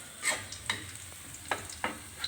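Garlic sautéing in a very hot wok, a faint hiss broken by a few sharp spatula scrapes and taps.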